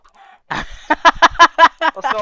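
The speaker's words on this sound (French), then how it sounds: "Au secours, c'est des poulets énervés" Angry video-game chickens cluck loudly in a rapid string of sharp, close squawks after a brief quiet start.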